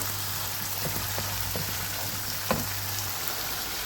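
Spice paste sizzling steadily in hot oil for spicy Brussels sprouts, a continuous close frying hiss with a few soft stirring taps and no talk.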